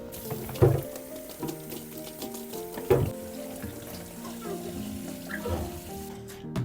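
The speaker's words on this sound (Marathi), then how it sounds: "दोन्हीही हे कंटेनर्स त्याची झाकणं सगळं स्वच्छ साबणाने धुवून घेतलं" Containers and lids washed with soap under a running kitchen tap, a steady close stream of water with clattering knocks and thuds as the items are handled.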